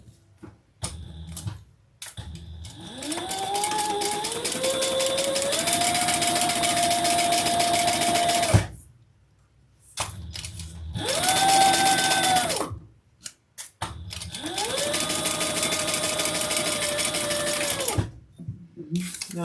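Sewing machine chain stitching the seams of a small fabric tote bag, running in three sustained bursts with steady motor whir and rapid needle ticking, separated by brief pauses and soft handling sounds.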